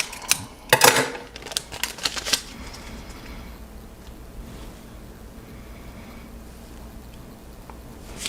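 A quick run of sharp snipping and clicking as scissors cut plastic model kit parts, loud and close, for a couple of seconds, then quiet background hum.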